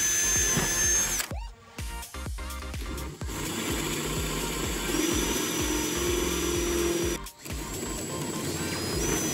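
A power drill whirs continuously, bores into a Tron arcade cabinet during its restoration, and pauses briefly twice before spinning up again, loud and close with no talking.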